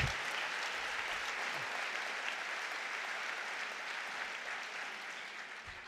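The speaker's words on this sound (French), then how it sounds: "Et donc quand vous m'applaudissez comme ça" Audience applauding a psychopedagogue after his talk: a dense, sustained roar of many clapping hands that holds steady and fades slightly toward the end.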